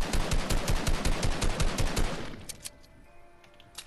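Rapid automatic blaster fire in a Star Wars video game battle with a Sith trooper, a loud, evenly spaced burst that cuts off midway, followed by quieter sporadic shots.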